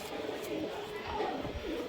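Malbahi high-flying pigeons cooing nearby, soft throaty murmurs in a steady run against faint background noise and possible low voices.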